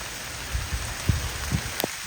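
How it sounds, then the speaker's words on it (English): Small ice pellets of March hail fall outdoors in upstate New York, a few distinct soft ticks and taps over a steady hiss of precipitation, with no voices. "It's kind of like, it's almost hail."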